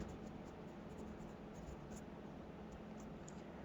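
Pen scratching across paper while the given data of a maths geometry problem is written down, a steady continuous rasp with no pauses, close and fairly quiet, with no one talking.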